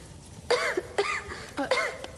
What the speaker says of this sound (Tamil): என்ன இருமல் நிக்க மாட்டேங்குதா?